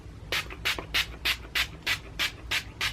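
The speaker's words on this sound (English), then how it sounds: "going in with the Milani Make It Dewy setting spray and just quickly giving myself a spritz with this" Eight quick, evenly spaced hissing spritzes from a Milani Make It Dewy setting spray bottle, close up, with faint background noise between puffs.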